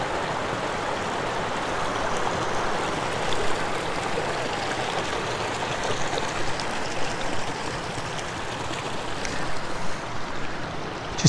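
A river flows steadily around someone standing mid-stream on an evening wild camp in Galloway Forest, a continuous close rushing and burbling of water with no talk.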